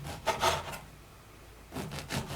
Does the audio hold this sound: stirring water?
no